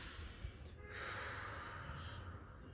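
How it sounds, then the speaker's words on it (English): A single deep breath drawn in slowly and close, a soft airy hiss rising and then sustained at low volume in a quiet room. "you can just take a deep breath in the middle of this process at any time"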